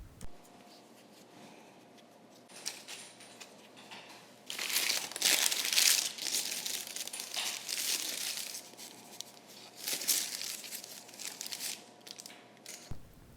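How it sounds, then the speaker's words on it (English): Parchment paper crinkles and rustles as it is handled beneath shaped artisan bread loaves, with quiet bursts of crumpling that swell and fade over several seconds, nearby and unaccompanied by talk. "I am going to put it on some parchment paper just so it's going to be easier to transfer into the oven"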